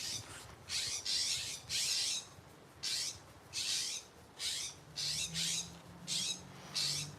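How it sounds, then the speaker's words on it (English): Birds overhead give a series of harsh, raspy calls in short, regular bursts, about nine in a row, with quiet gaps between. "There's a lot of birds in the tree above me"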